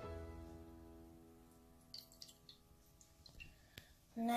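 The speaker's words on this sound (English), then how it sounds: "So first you pour your water in the plate." Water is poured into a plate as the first step of a pepper and dish-soap science experiment, giving a faint, quiet trickle and a few soft drips close by in a hushed room.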